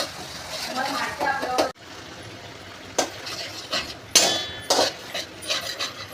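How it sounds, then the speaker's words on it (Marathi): Yogurt stirred into tomato-ginger-garlic paste in a pan, with a spoon scraping and clinking against the metal in scattered strokes and short bursts, close by. "दही टाकून आता आपण मिक्स करायचं आहे."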